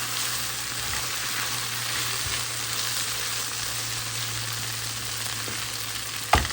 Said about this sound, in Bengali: ভেন্ডি ভাজি হয়ে গেছে